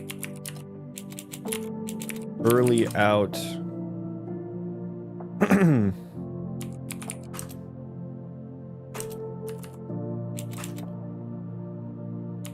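Keyboard keys click in sparse bursts while someone codes in Unreal Engine 5, with short pauses between them and someone speaking briefly over the typing.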